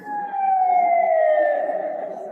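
An ambulance siren sounds a loud, sustained wailing tone that slowly glides downward in pitch, heard clearly and alone from near to slightly receding.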